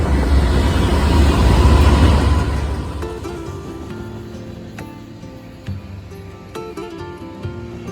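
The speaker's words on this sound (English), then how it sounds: "And here's the train." A train rumbles loudly past near a lake, its heavy low roar swelling for the first few seconds and then easing into steadier wheel clatter and faint squeals as it recedes.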